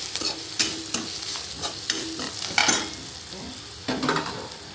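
Prawn ghee roast masala frying in a pan and being stirred, a steady close sizzle broken by repeated scraping strokes of a spoon, with no voices.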